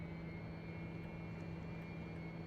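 Steady, even drone of a TBM-900 turboprop engine climbing after takeoff in the X-Plane 11 flight simulator, with a constant hum and a faint high tone and no change over the short stretch.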